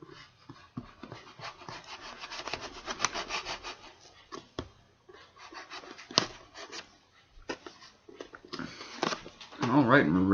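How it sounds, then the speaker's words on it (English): A craft knife saws back and forth through a plastic construction-toy part in a series of short rasping strokes, close and moderately loud, with a person talking over parts of it. "Guess I have to do a little bit of a sawing action there."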